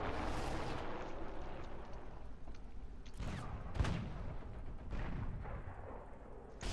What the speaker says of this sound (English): Already bombing us in our spawn, which is never a good thing.